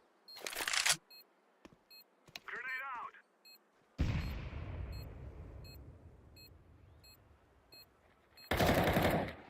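Gunfire in a Counter-Strike 2 competitive match: several loud broadband shot bursts, one at the start and one near the end, with a sharp blast and a long decaying tail midway, plus small clicks and game effects in between.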